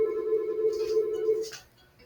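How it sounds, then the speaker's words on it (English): A phone ringtone plays a steady electronic tone for about a second and a half, close and clear, then stops, followed by a brief faint breath or rustle. "my phone was ringing"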